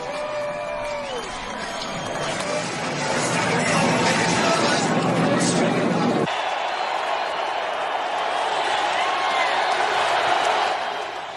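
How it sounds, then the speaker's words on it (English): Large stadium crowd at the Daytona 500 roaring and cheering in a dense, sustained wall of noise that swells around the middle and stays loud throughout. "Listen to the crowd. Listen to the roars."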